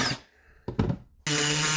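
A power tool bolts up a custom car part for an engine install on a widebody WRX wagon race car, giving short bursts of whirring and then a sustained loud buzz.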